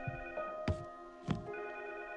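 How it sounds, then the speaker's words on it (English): A telephone rings in a horror game with a steady electronic tone, fairly quiet, broken by a few soft thuds. No one speaks over it. "let's go answer the phone"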